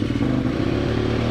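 A Aprilia RXV 550 motorcycle engine just started and running, a steady close, rough, clattering idle throughout the short stretch, no talking.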